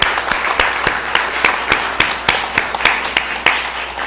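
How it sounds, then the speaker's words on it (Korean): A church congregation stands and claps in welcome during a Sunday service, a loud, fairly sparse round of applause with distinct sharp claps over about four seconds, without speech. "일어서서 박수하겠습니다."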